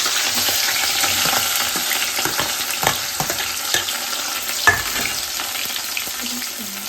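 Onions frying in a pan of fully heated oil, a steady dense sizzle with scattered scraping stir strokes and small pops, close and fairly loud throughout with no voices.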